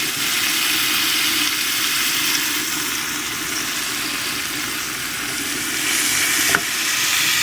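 Potato, beans and bottle gourd peel fry in a pan with a loud, steady, close sizzle, joined near the end by one brief clatter of stirring, with no talking.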